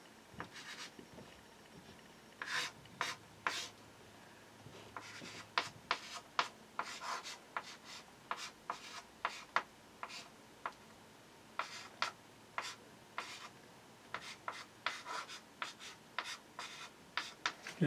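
A pen or pencil writes math by hand in quick, irregular scratchy strokes and taps, close and fairly quiet, with short pauses between bursts.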